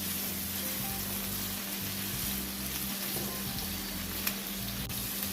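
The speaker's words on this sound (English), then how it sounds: "And I'm going to saute these until they're nice and tender." Saltfish and vegetables sauté together in a pan, giving a steady, close sizzle with a faint hiss that runs evenly throughout and has no talking over it.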